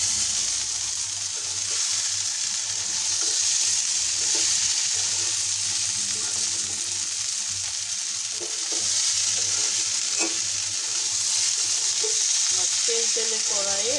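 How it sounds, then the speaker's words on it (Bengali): Bitter gourd frying in oil, with a steady sizzle and repeated stirring scrapes running throughout, fairly close and continuous. "করলা ভাজি হচ্ছে"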